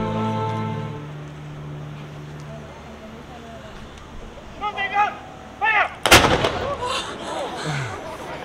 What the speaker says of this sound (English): the firing of the noonday gun from the saluting battery